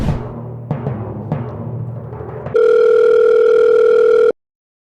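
An antique early-model telephone gives a few mechanical clunks and handling rattles, then a loud, steady dial tone hums for nearly two seconds before cutting off abruptly.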